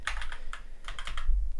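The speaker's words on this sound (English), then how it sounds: "I suck at typing." Fingers type on a computer keyboard in a quick, close patter of light clicks arriving in short bursts, with a low rumble underneath.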